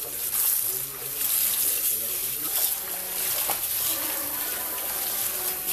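Running water pours steadily over dirty spinach being rinsed in a kitchen sink, a continuous close splashing hiss with light handling underneath.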